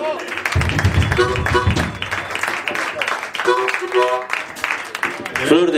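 Audience applause and clapping for a bassist during a concert, a steady clatter of hands running through the whole stretch beneath someone talking over a microphone.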